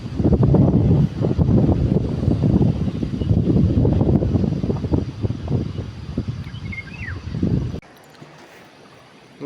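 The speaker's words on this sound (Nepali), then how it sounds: "हावा चाहिँ यस्तो लागेको छ गाइज" Wind blows hard across a microphone on the Modi Khola riverside while people fish for asala. Loud, low, rumbling gusts buffet continuously, then drop to a softer hush near the end. No speech is heard.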